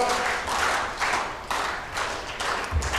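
Audience at the East African Civil Society Summit 2025 clapping in a rhythmic, organized pattern, bursts of loud collective claps repeating about every half second, with no talking over it.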